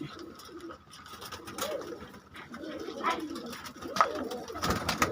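Pigeons, including flying pigeons kept by a fancier, coo in low, throaty, repeated calls close by, with scattered rustles and soft background noise; no clear speech.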